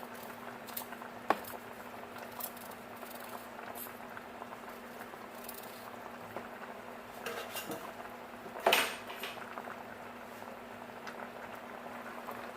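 Peeled Irish potato and yam go into a cooking pot for Jamaican cowskin soup, with soft clinks and one louder clunk and splash against a quiet kitchen background with faint bubbling.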